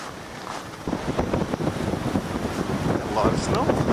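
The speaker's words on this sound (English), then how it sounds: "Got a blizzard going on. Hope I don't get drifted in." Blizzard wind on a farm with drifting snow roars and buffets the microphone in a loud, steady rush that swells toward the end.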